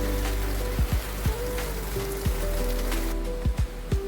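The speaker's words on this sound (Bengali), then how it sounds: "বাইরে পড়ছে ঝমঝম করে বৃষ্টি।" Rain pours steadily outside in a dense wash, with scattered drips and water splashes landing close by.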